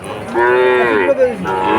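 A Sahiwal calf at a cattle market lets out one loud, close, drawn-out moo that rises and wavers, with faint market noise behind it.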